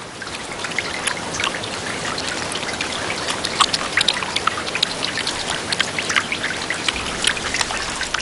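Steady rain from a storm patters and drips densely on surfaces, with scattered sharper drop impacts throughout, close and continuous with no voices.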